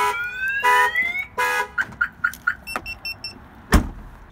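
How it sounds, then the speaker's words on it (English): Ford F350 pickup security alarm sounding after a door is opened: sweeping tonal siren wails give way to a rapid series of short repeated chirps and beeps, loud and close, ending with a thump. "letting you know that the door has been opened and the alarm is going off."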